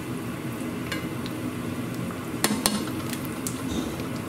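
A constant frying sizzle of pork belly cracklins in 400-degree oil fills the background while a few crisp pops and snaps break through, most clustered together near the middle.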